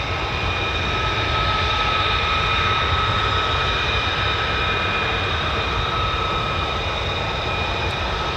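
A steady, loud F-22 fighter jet roar at a US Air Force fighter wing base in Britain, a continuous broadband rumble with a high whine over it, holding constant throughout with no voices.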